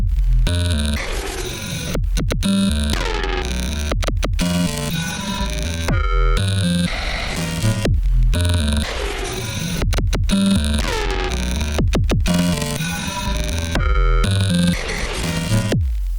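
Glitchy synth drums stutter and cut out abruptly while a robotic quantized vocoder melody with added effects warbles on top, made with the Infiltrator 2 multi-effects plugin, loud and continuous.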